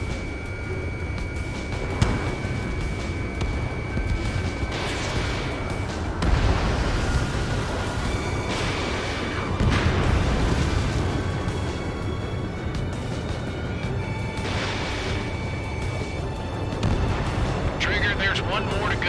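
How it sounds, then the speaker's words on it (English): In the Ace Combat 7 flight game, a missile launch and a run of explosions boom and rumble over a constant jet roar, with radio voices talking over the action. "Missile launched."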